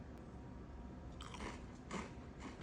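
Someone bites into crunchy original cheddar Cheez-It crackers, giving two or three short close crunches over a steady hiss of background noise.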